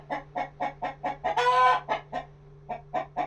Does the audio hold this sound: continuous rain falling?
no